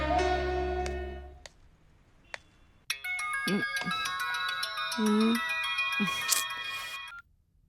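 Phone ringtone playing during an outgoing call, a steady electronic melody of repeated tonal notes that runs for several seconds at moderate loudness, with a short burst of speech and noise before it starts.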